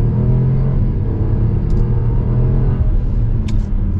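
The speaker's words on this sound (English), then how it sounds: "we're gonna get a little acceleration here" A 2020 Buick Encore GX crossover accelerating, heard as a steady, loud, close engine and road rumble that continues throughout with no talk over it.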